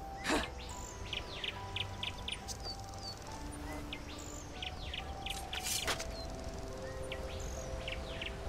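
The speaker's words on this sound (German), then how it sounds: "Was ist das eigentlich für ein Vogel?" Repeated melodic bird calls in the fantasy role-playing game Enderal, a few clear whistled phrases recurring over soft insect-like ambience with a couple of sharper clicks in between.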